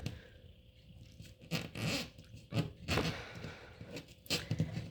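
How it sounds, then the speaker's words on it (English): Alien Tape slowly pulled away from drywall, producing uneven sticky ripping and crackling bursts that come in short pulls with quiet gaps, close and fairly soft. "just keep slowly peeling it away"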